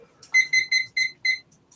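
A timer alarm rings in five evenly spaced bright beeps, each a short electronic tone with harmonics, followed by a couple of fainter trailing blips; clear and close with no talking.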